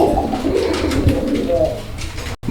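Pigeons at a pigeon market coo softly in a low, rolling murmur that carries steadily throughout, with a brief drop-out near the end.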